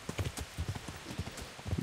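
Horse hooves clip-clop at a steady trot in the medieval game Kingdom Come: Deliverance, a run of close, fairly loud beats with no talk over them.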